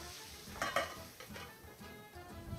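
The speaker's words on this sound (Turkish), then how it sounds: "Sonra devam ediyorum kızartmaya. İlave ediyorum etlerimi." Lamb pieces and ribs are added to a pan to fry, giving a close sizzle broken by clinks of a utensil against the pan, with no talking.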